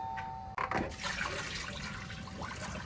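Water gushes into a cooking pot of zucchini and chicken after a brief click, a close, steady pouring splash that runs unbroken to the end without anyone talking.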